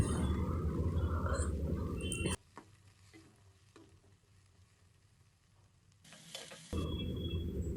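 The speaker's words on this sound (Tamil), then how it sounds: "இப்போ கட் பண்ணி வச்சுருந்த வெங்காயம் சேர்த்துக்கிறேன்" Chopped onion frying with green chilli and curry leaves in a pan, a loud steady sizzle that drops abruptly to a faint hiss partway through before the full sizzle returns near the end.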